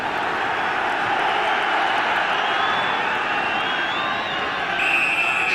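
A capacity football crowd of 6,100 fills the ground at a Kettering Town versus Northampton Town FA Cup first-round match, a dense continuous roar of voices with scattered whistles and shouts, loud and steady throughout.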